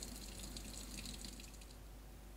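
Clear water runs steadily from a tap over surgical cannulas being rinsed, a faint, continuous splashing hiss with no voices.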